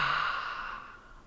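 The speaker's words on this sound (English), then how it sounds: "Big breath in. Open mouth, exhale." A single open-mouth exhale, a soft breathy sigh close by that fades over about a second.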